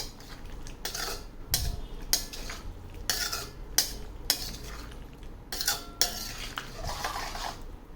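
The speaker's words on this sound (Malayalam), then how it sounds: "ഈ വേവിച്ച് വെച്ചിരിക്കുന്ന പച്ചക്കറിയും അത് വെള്ളത്തോടു കൂടി അതിലേക്ക് നമുക്ക് മെല്ലെ കമ്മിക്കാം. നമുക്ക് മെല്ലെ വഴറ്റി കൊടുക്കാം." Cooked vegetables with their water being stirred in a pan for a soya chunk curry: repeated metal spoon scrapes and clinks against the pan, close and fairly quiet, with only a faint sizzle underneath.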